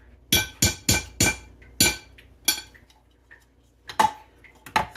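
A metal pastry cutter knocks against a bowl while working cold butter into flour, making sharp clinking strikes in an uneven rhythm: a quick cluster, then scattered hits with short pauses.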